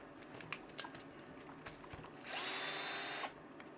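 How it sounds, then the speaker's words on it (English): Power driver loosening screws on the underside of a Tekno SCT410SL RC truck: a few soft clicks, then one roughly one-second burst of high whirring buzz, fairly quiet and close. "I'm going to loosen these screws on the bottom to give me more room to put my servo in."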